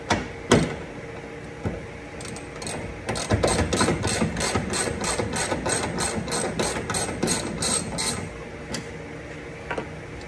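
A ratchet wrench backs out the bolts holding a car tail light, giving a steady run of quick, close clicking strokes over faint mechanical rattling, with no talking.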